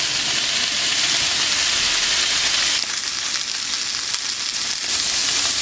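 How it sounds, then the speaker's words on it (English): Steak searing in a hot frying pan, a steady loud sizzle and crackle that holds throughout, close up and with no talking. "we're going to get it at least seared on the outside"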